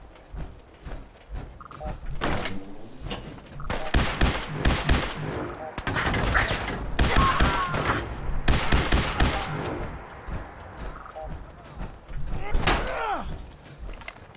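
Bursts of gunfire from the video game Fallout 4, rapid automatic volleys and single shots scattered through a busy firefight, loud and close, with a voice talking over the action.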